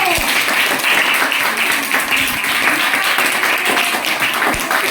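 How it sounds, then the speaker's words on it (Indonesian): Steady applause from a classroom of students, dense clapping filling the whole stretch with a few sharper claps standing out. "Kalau tidak ada, beri tepuk tangan kelompok 1."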